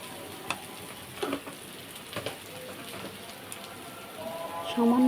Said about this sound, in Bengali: এবার আমি কষিয়ে নিচ্ছি